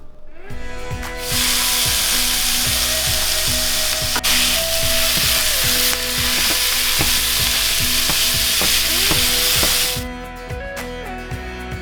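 Ground beef and onion fry in a pan with a loud, close, steady sizzle that holds for about nine seconds before fading, while background music plays underneath.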